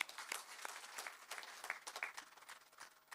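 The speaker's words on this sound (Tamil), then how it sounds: "அதுக்கும் கைதட்டுங்க" Audience at a Tamil party ceremony applauding, a faint, distant patter of many hands clapping continuously for a few seconds.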